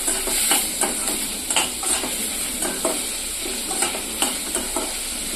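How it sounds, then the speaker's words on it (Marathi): Onion for egg bhurji sautés in a pan with a constant bright sizzle, broken by regular scraping and clicking strokes of a spatula as it is stirred and browned. The stirring is close and fairly loud, with no voices. "कांदा चांगला लाल होईपर्यंत आपण परतून घेऊयात"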